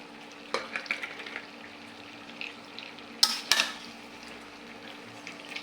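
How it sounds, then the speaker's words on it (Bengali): Chicken being stir-fried with cumin paste in a home kitchen, giving a soft background sizzle with scattered stirring scrapes and a couple of sharper metallic clinks from the pan. "এই যে আমার গোশটা দেখুন কষাচ্ছি। এখন আমি জিরা বাটা ছিল, জিরা বাটাটা দিয়ে আরও কষাবো"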